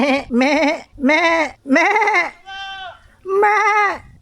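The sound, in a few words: goats bleating in a pen on a farm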